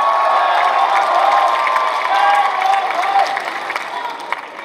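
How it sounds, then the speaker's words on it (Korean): A large crowd at a political party leadership rally cheers and applauds loudly and continuously, a dense roar of voices and clapping that slowly fades toward the end. "여러분, 요 대목에서 우리 박수 한번 크게 칩시다."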